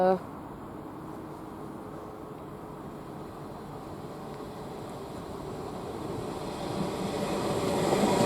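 A long GWR Class 800 train approaches and passes through Didcot Parkway station on the Great Western Main Line, a steady rumble and rail noise building gradually louder toward the end.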